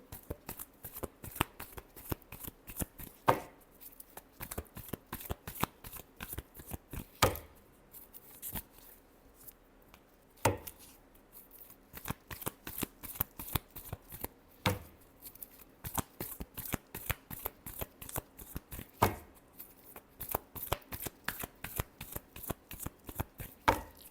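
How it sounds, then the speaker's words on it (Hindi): Tarot cards are shuffled by hand in rapid, close riffling bursts, repeated many times with short pauses between rounds, and no talking over them. "last shuffle"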